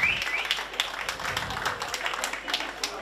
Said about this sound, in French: on applaudit encore notre maître formateur, Evan.